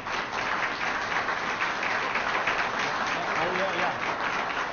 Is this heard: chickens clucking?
no